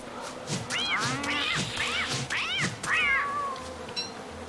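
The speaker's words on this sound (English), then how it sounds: "Freaking cat." A cat meows repeatedly in the Don't Starve video game, several rising and falling cries in quick succession, fairly close and clear over a quiet background.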